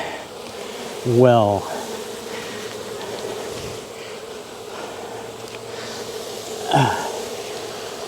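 Loud, steady buzzing of a honey bee hive fills the clip, a dense droning hum with brief close fly-bys and a faint word spoken.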